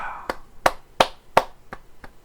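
One person claps hands six times in an uneven rhythm, sharp close claps spaced roughly a third of a second apart in a quiet room.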